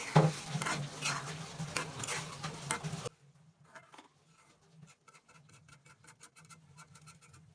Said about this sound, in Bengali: এই পর্যায়ে আমি 1 মুঠ ধনেপাতা দিয়ে একটু নেড়েচেড়ে নামিয়ে নিচ্ছি